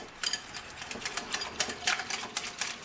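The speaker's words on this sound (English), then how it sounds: "I'm making my buttermilk. And I will just whisk that a little." Homemade buttermilk whisked in a bowl, a rapid run of close, clicking, rhythmic strokes as the whisk hits the sides, with no talk.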